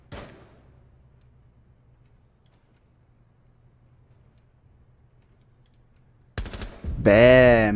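A single sharp gunshot in the online multiplayer shooter Rainbow Six Siege rings out and quickly decays. Near silence follows, then a loud voice cuts in at the end.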